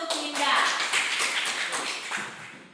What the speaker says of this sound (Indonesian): tepuk tangan dulu untuk Linda.